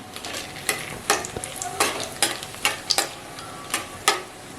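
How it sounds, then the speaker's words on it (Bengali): Dried red chilies and bay leaves hitting hot oil in a pan, crackling in sharp bursts with stirring scrapes in between, close and fairly loud, no talking. "দুটো শুকনো লঙ্কা ফাটিয়ে দিয়ে দিলাম। আর তেজপাতা দেব।"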